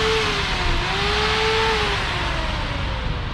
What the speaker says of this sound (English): let's check your condenser fan. All I gotta do is turn it on.